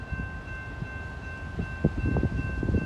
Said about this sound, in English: Got a film here because of a stopped train right here.